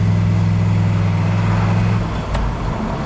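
Car engine idling steadily with a 4L60 automatic transmission shifted into second gear, a continuous low droning hum that stays loud and even throughout, dipping slightly near the end.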